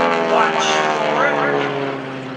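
An aerobatic airplane's radial engine at the 2015 Greenwood Lake Airshow, heard up close as a loud, steady droning roar with a throaty harmonic hum that swells slightly and then eases off.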